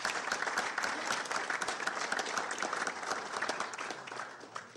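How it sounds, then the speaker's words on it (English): An audience at a council meeting claps steadily for about five seconds, a dense patter of many hands in a room, fading slightly at the end. "So let's give her a round of applause,"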